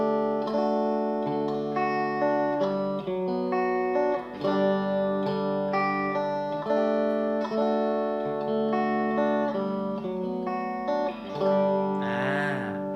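Shijie Custom STN electric guitar with alder body and maple neck, played clean through the mixed humbucking pickup position, strumming sustained chords steadily and fairly loud with light effects, alone without talk.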